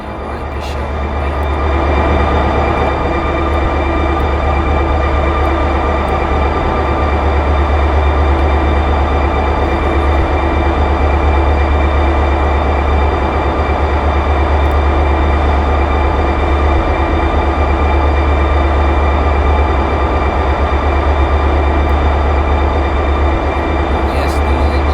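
Diesel locomotive engines on a BNSF local job in the Run 8 Train Simulator game roar in a loud, steady, rumbling drone with a constant low throb that holds unbroken for the whole stretch.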